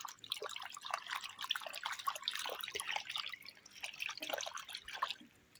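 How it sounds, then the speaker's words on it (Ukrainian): Quiet splashing and dripping water with irregular sloshes as currant leaves are swished and rinsed in water, fading out at the end. "Я їх спочатку промиваю в воді."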